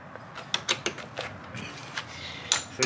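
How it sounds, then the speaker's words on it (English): A wrench tightens a bolt while assembling a 30-inch five-drawer mechanic's tool cart, giving a series of short metallic creaks and ratcheting clicks in an irregular rhythm, close up and moderately loud, with no talking. "I've got to put the old-fashioned wrench on here."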